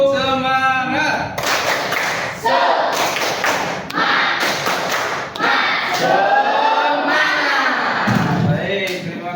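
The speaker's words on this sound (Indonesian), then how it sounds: "Tepuk semangat dulu ya." A class in an Islamic religious education lesson performs a patterned spirit clap, with loud bursts of rhythmic clapping and thumping mixed with chanting voices in unison throughout.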